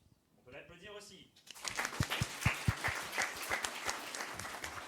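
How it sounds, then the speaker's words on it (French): A speaker talks briefly at a conference before the audience starts clapping, the applause building into steady, fairly faint crowd clapping with a few sharp close claps near the start. "On peut l'applaudir aussi."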